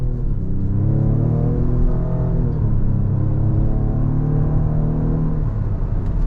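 A sleeper SUV's engine holds a steady, loud low rumble during a brake-boost launch, with a mild rising rev partway through and no voices over it.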